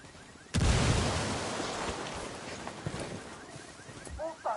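A frag grenade goes off in the tactical shooter Ghost Recon, one sudden loud blast followed by a long, rumbling decay of debris and noise, with faint voices and game sounds underneath.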